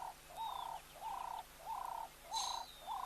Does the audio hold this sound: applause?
no